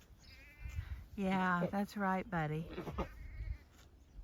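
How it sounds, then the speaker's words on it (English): Sheep bleat repeatedly from close by on a quiet one-lane country road, several loud wavering calls in quick succession, with someone speaking briefly over them. "we're here with the sheep."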